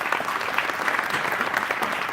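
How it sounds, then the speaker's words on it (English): Steady applause from an audience at a speakers' session, a dense even patter of many hands clapping throughout with no pauses. "With a great applause."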